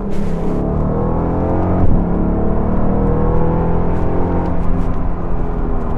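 An Artega GT sports car engine drones loudly and steadily from inside the cabin, its pitch rising and falling with acceleration, with a deep, throaty tone.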